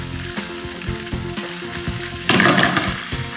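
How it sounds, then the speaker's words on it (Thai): Pork stir-fried in a hot wok for Thai rad na with crispy wide noodles, a steady close sizzle with rhythmic scraping stirs, swelling louder as the meat is turned. "ผัดให้สุก"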